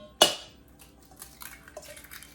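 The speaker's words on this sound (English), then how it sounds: "start off by cracking 2 eggs" An egg is rapped sharply against a mixing bowl with one loud, close crack, followed by a scatter of lighter clicks and taps against the bowl.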